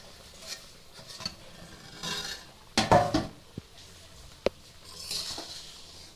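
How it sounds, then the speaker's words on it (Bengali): A lid is lifted off a pot of boiled raw mango, giving a sharp metallic clatter midway among a few lighter clinks and soft kitchen handling noises. "দশ মিনিট পর আমি ঢাকনা তুলে নিচ্ছি।"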